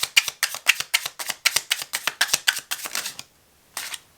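Tarot cards shuffled and drawn by hand, heard close up as a quick run of crisp, rhythmic card slaps and riffles, then a brief pause and one last flick, with no voices.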